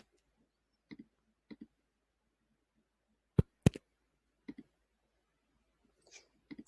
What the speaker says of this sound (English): pressing Shift and click, I'll select these last few shapes